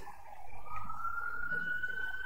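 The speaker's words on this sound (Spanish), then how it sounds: "Déjenme que pase la ambulancia." An ambulance siren passing outside, a single rising wailing tone that is moderately loud and steady, with no talk over it.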